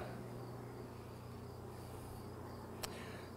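Honeybees hum in a faint, steady drone during a beehive inspection, with a low continuous buzz, one brief sharp click near the end and no talking.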